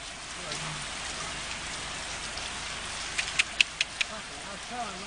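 Steady rain falls on a surface as a soft, continuous hiss, with a few sharper drips or taps standing out near the end.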